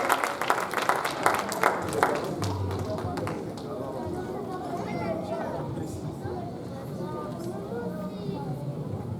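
Wedding ceremony audience clapping hands, a dense burst of applause loudest early on and tapering into a steadier patter with a crowd murmuring underneath.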